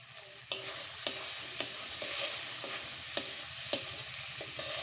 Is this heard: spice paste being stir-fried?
yes